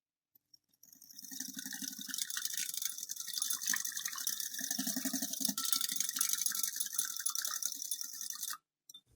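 Yogurt and powdered sugar mixed in a bowl for malai cake batter, a close, busy scraping and clicking whisk rattle that starts after a few taps, runs steadily for about eight seconds, then stops.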